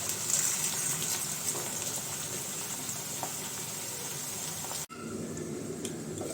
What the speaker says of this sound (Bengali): আলু ভাজা হচ্ছে এখানে একসাথেই সব দিয়ে দিচ্ছি